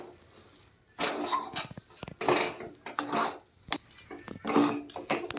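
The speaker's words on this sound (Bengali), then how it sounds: "এইভাবে নাড়াচাড়া করতে করতে কিন্তু শক্ত একটা ডো তৈরি হয়ে যাবে।" Spoon scraping and knocking through stiff rice-flour dough in a pan, heard as several bursts of scraping with short pauses between them, close and moderately loud, with no voices.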